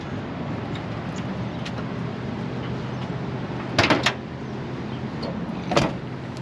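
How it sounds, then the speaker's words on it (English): A 1993 truck's door shuts with a couple of solid, close thuds heard over a steady engine-like hum, followed by another thud a couple of seconds later. "that door shuts so nice"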